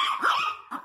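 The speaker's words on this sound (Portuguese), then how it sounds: "Tá latindo, Todd?" A miniature pinscher guarding its food barks twice, sharp and close, the first bark longer and the second short.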